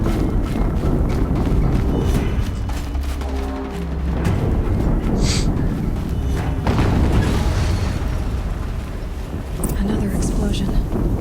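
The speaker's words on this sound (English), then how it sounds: "Another explosion." Explosions boom in Horizon Zero Dawn among corrupted machines, deep rumbling blasts that swell and fade beneath a dense, continuous mix of game noise and speech.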